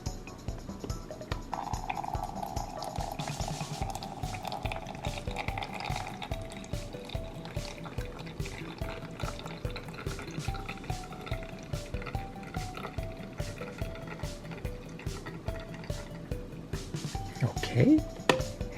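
A toy coffee maker from a pretend kitchen play set brewing, giving a continuous gurgling, trickling liquid sound with a rapid rhythmic pulsing throughout, fairly close and steady, ending with a few clicks.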